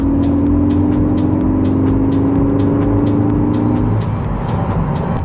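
Engine note of a Ford Focus ST under acceleration, a sound made by a generator rather than the engine itself, heard loud and close as a steady rising drone with repeated clicks and a shift just before the end.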